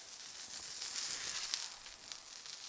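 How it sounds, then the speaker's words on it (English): Onions caramelizing in a pan on a burger cook, a steady, fairly quiet sizzle with bright crackling pops throughout and no talk. "we're going to get these onions kind of caramelized"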